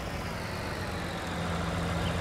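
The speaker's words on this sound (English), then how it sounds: "I'm just going to pull the tractor up" A tractor engine idles in Farming Simulator 19, a steady low rumbling drone that holds evenly throughout with no other sounds over it.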